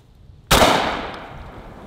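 A Benelli Versa Max semi-automatic shotgun fires a single loud, sharp blast outdoors, its report decaying over about a second and a half.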